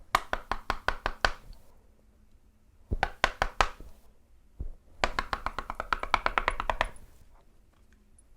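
Knuckles rapping on a Hermetic tarot card deck in three bursts of quick, crisp, close knocks, each a rapid flurry of hollow taps, with quiet gaps between and no talking.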